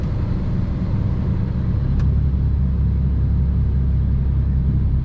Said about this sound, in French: Ça y est, il accélère.